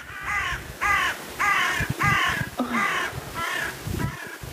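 Crows caw repeatedly outdoors, about six harsh calls in a loose rhythm, fairly close and clear with faint background noise.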